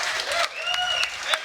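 Brief smattering of applause from a studio audience on a college sports talk show, scattered clapping that rises and falls in short bursts over about a second and a half, with a voice speaking over it.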